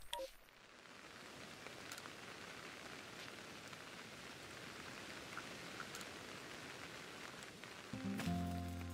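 Steady soft rainfall in the Crimson Mirelands of Pokémon Legends: Arceus, a faint continuous hiss of drops running throughout, joined near the end by a brief tonal game chime.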